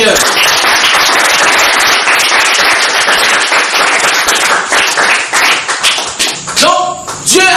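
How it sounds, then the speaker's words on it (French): A church congregation applauds the Lord during a sermon with loud, close, rapid clapping in sharp, crackling bursts that thin slightly and turn uneven near the end. "Applaudis pour le Seigneur."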